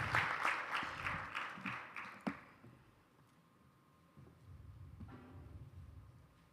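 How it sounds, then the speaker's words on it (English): Audience applause welcoming a moderator onto the stage at a youth-led dialogue event, brisk clapping that fades out after about two seconds, leaving quiet room tone and faint murmurs. "Welcome on the stage with a warm round of applause to Keza."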